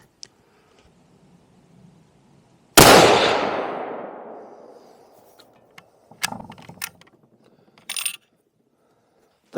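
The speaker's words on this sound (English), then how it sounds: "All right, let's send a shot down." A single loud, sharp report from a classic hunting rifle fired on a bench at a shooting range, with a long decaying echo, followed later by a few light mechanical clicks and clatters of handling.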